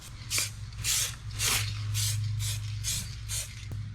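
A spray paint can hisses onto a disassembled airplane part in repeated short bursts, about seven or eight evenly spaced spurts over a steady low hum, with no talking.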